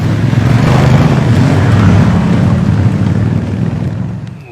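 A 2015 Honda CRF1000L Africa Twin 1000cc motorcycle engine runs with a steady, loud low rumble and rushing wind noise, fading slightly near the end, with no talk over it.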